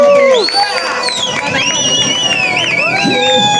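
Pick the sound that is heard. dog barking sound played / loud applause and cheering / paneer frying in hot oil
loud applause and cheering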